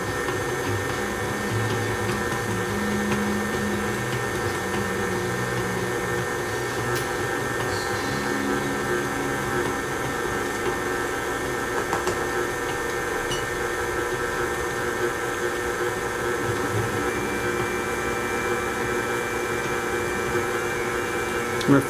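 Stand mixer kneading homemade pizza dough, a steady electric motor whine with rhythmic lower thumping as the dough turns in the bowl, continuous and close with no talk.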